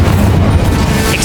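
Spell blast explosion in the Hogwarts Legacy game, a loud, dense booming rumble that fills the whole moment with no pause.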